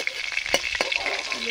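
Fish frying in hot oil, a brief close crackling sizzle with a couple of sharp pops.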